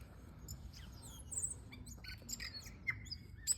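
Small birds chirp and tweet outdoors in a string of brief, high calls scattered across a few seconds, fairly near against a low steady background hum.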